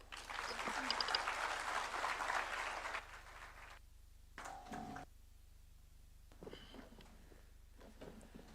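Audience applause for a dignitary at a formal constitutional anniversary event, loud for about three seconds and then fading to scattered claps, bumps and a brief voice.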